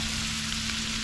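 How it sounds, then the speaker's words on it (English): Cabbage and mixed vegetables fry in a pan while being stirred, giving a steady, close, bright sizzle with no talking. "So I'm going to keep stirring, mixing in the cabbage with the other veggies"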